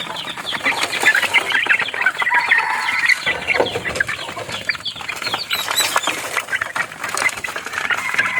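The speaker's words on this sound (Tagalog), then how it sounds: "Simutin ng mga sisiw yan." Young chicks crowd a brooder, peeping and clucking densely and loudly at close range, with occasional wing flutters and scratching as they pick at scattered feed, continuous throughout and with no talking.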